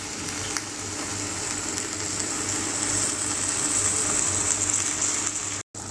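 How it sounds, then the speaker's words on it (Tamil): Tomatoes sautéing in a pan for tomato rice, producing a constant, even hiss of sizzling with faint bubbling and a brief break near the end, no voices. "ஒரு 5 நிமிஷம் தக்காளி நல்லா வதங்கட்டும்."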